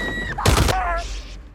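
A gunshot from an SS soldier in a Nazi-era war film, one sharp loud burst in the middle of the clip, set between tonal music and sound effects.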